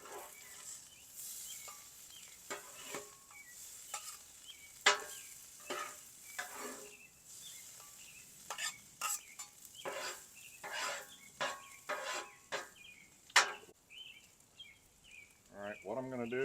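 Food caramelizing on a flat-top griddle for a homemade cheesesteak, heard as a soft steady sizzle broken by frequent scraping and tapping of a metal spatula, fairly close and quiet.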